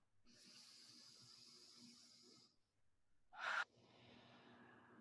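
A deep breath drawn in during a calm tapping exercise: a long, soft, airy inhale lasting about two seconds, a pause, then a short sharp gasp-like burst followed by a quieter exhale, heard alone and fairly close.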